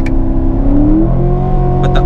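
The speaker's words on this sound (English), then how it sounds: "So if I downshift, you know, takes a little bit on downshifts," A 2018 Chevy Corvette Grand Sport engine rises in pitch as it revs on a downshift, a loud, close blip heard from inside the car, with a voice briefly over it at the end.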